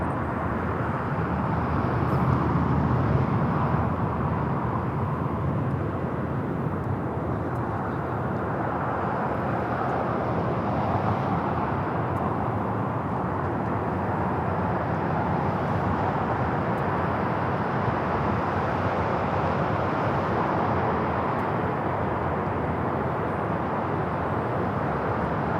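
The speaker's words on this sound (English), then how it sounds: "up next is the Qantas. Coming from Sydney, flight 11." Qantas airliner arriving at LAX on flight 11 from Sydney, a loud sustained jet roar that swells slightly early on and then holds steady, with no one talking.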